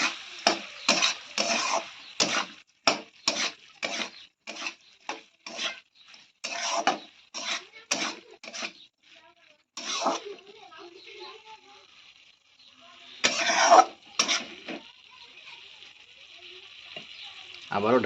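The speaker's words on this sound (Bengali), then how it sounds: "আবার ভালো করে নেড়ে চেড়ে দেবো।" Chopped tomato is stirred into a fish curry in a frying pan. A utensil scrapes and taps against the pan in quick repeated strokes over a soft sizzle, with a short pause before a few more scrapes.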